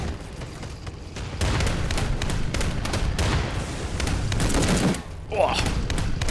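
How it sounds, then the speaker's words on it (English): Dense machine gun fire rattles almost without pause through a war game battle set in a Chinese invasion of Taiwan, loud and close with rapid bursts and booming thuds underneath, while someone speaks over it. "There's a man with a British supplied machine gun."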